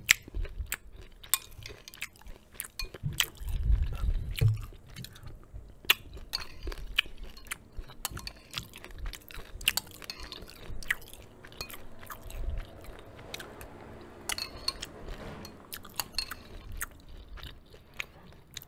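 Crunchy granola clusters chewed close to the mic, with repeated crisp crunches and bites in an uneven rhythm over nearly twenty seconds, plus occasional faint clinks of a spoon or bowl, no talking.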